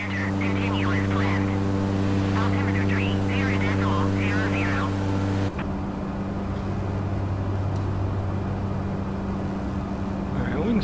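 The propeller engine of a Cessna 208 B Grand Caravan in Microsoft Flight Simulator, flying between Sierra Vista, Arizona and Lordsburg, New Mexico, drones steadily with strong tonal hum that shifts abruptly halfway through, with faint radio chatter over it early on.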